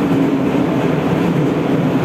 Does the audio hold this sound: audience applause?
no